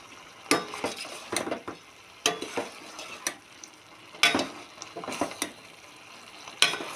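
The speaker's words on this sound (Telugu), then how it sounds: "కొద్దిసేపు కలపాలి ఇలా, లేకపోతే అడగంటిపోయిద్ది" Ginger curry being stirred in a pan, with a spoon scraping and knocking against the metal in irregular bursts over a soft background sizzle, close and alone without talk.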